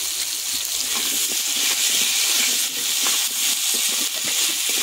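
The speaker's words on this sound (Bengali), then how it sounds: "তেলেই প্রথম আলুটা ভেজে নেব।" Potato pieces frying in hot oil with salt and turmeric, giving a loud, steady bubbling sizzle that runs without pause.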